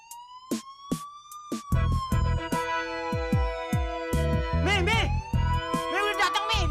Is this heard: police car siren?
yes